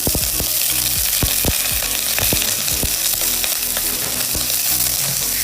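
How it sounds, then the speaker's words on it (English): Shaved pork sautéing in oil in a pan, with a loud, continuous sizzle and crackle and a series of sharp clicks and scrapes as the meat is moved around. "We're just going to cook our pork off now"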